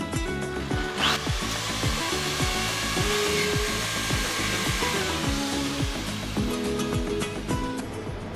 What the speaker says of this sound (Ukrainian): Так, взяли трохи менше сверло на 10. Зараз можемо.